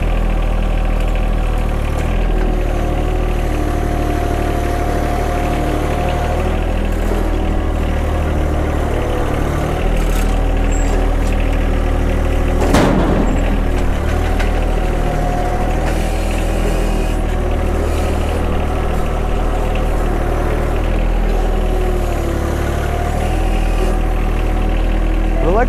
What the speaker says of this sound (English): I don't have the RPM up whatsoever. Just idling, taking it slow.